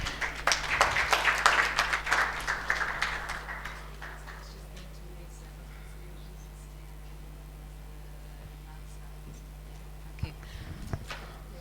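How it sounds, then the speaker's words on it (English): Audience applause for the leaders as they retake their seats at a ceremony recognising Malawian justice innovators; a burst of clapping for about four seconds that fades into quiet room tone, with a few faint knocks near the end. "can we give a hand clap to our leaders even as they take their seats"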